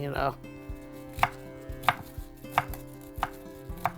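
A knife chops cabbage on a cutting board at home, six crisp, evenly spaced knocks at close range, each one clear and sharp against a quiet room.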